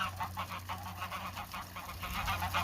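Geese honking repeatedly in a noisy cluster during a winter freeze, steady overlapping calls with a low hum beneath.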